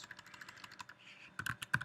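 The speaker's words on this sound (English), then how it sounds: "I think I'll just type it out." Crisp keystrokes on a computer keyboard type out code, arriving as rapid clusters of clicks. A brief pause comes partway through, and the last few taps land louder and sharper.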